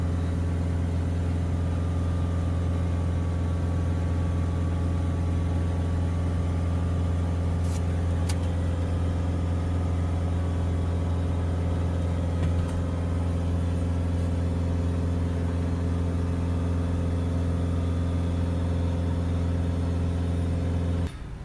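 A Peugeot Boxer 2.0 diesel van engine idles steadily and settles down, a constant close low hum with faint clicks and no talking, running unbroken for about twenty seconds.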